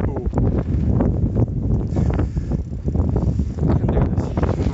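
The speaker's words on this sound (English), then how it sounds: "The wind is actually pushing me ahead." Strong wind buffets the microphone while riding a bicycle along the Blackpool seafront, a loud, continuous roar of gusty noise with no clear breaks throughout.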